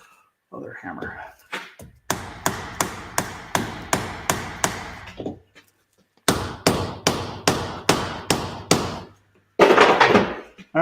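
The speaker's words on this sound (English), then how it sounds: "We got our other hammer." Hammer blows striking a motor during teardown, landing in two quick runs of about eight sharp metallic impacts each, separated by a short pause, then a louder hit near the end; loud and close.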